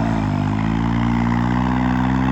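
A tractor engine runs steadily and loudly throughout with a low, even idling rumble and no pauses.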